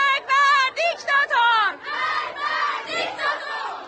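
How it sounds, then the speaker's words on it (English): Schoolgirls at a protest in Iran shout slogans together, a loud chorus of high young voices in rhythmic bursts, then a sustained crowd roar. "There have been protests from schoolgirls shouting,"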